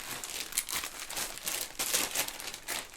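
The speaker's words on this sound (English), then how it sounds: "Sorry for the rustling." Crumpling and rustling of fabric being handled up close while sewing a jumpsuit, a continuous crinkly texture with rhythmic bursts and no talking.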